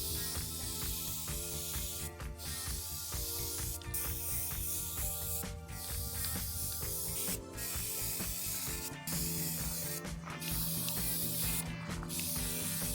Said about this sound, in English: it's now time to add the green spray paint